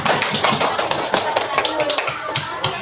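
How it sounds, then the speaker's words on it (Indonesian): A fifth-grade class claps for a student group in the classroom, a loose burst of many hands with uneven rhythm, fairly close, with voices mixed in. "tepuk tangan dulu buat kelompok Inara"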